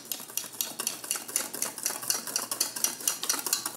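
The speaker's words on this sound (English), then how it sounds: "Whisk that together." Flour, salt and baking soda are whisked in a bowl, giving a rapid, rhythmic series of light clicking and scraping strokes, close and steady, with no voices.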